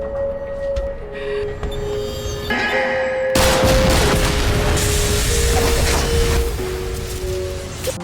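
A bomb blast destroys a room in a film scene: steady tones give way to a sudden loud, sustained roar of explosion and crashing debris that fills the rest of the clip.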